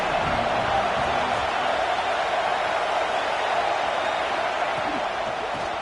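Steady stadium crowd roar from the NCAA 26 college football video game, a dense continuous wash of cheering that holds level throughout with no clear peaks.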